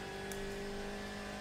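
Steady droning engine of a Ford race car in the iRacing sim at the 24 Hours of Le Mans, a constant tonal whine held at moderate level with no talk.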